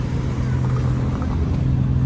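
Cars rumble past on a road, a steady, fairly loud traffic drone with low engine hum and no break.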